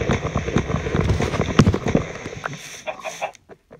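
Chickens in Minecraft cluck and squawk in quick bursts amid sharp popping and crackling hits, the busy racket thinning out and falling quiet near the end.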